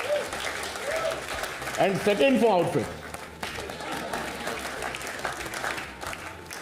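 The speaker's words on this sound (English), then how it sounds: "One big round of applause for batting." Audience applause rises for cricketer Shubman Gill at a sports honours ceremony, a brief swell of clapping and cheering under an MC's amplified voice, then fading into crowd murmur as talk continues.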